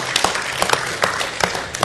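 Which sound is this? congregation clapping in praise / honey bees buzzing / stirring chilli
congregation clapping in praise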